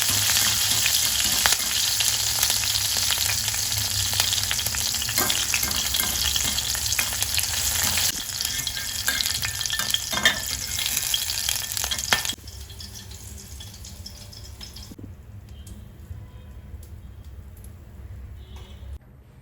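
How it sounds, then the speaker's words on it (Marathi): Green chillies frying in hot oil for a fasting-style sabudana chivda: a loud, steady, dense sizzle with no talk, dropping noticeably in level partway through and growing quieter toward the end. "आता यामध्ये मी मिरच्या तळून घेणार आहे"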